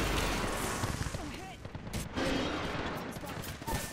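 Rapid bursts of gunfire from the Apex Legends video game, loud and dense, with a short lull partway through before shots resume, under excited voices talking.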